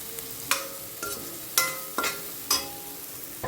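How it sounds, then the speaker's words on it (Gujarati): Onion and tomato masala cooking in a pan, with a faint steady sizzle broken by about six sharp scraping stir strokes at a loose rhythm, close up and with no voices. "ડુંગળી થોડી કાચી લાગે છે એને થોડી પાકવા દઈએ"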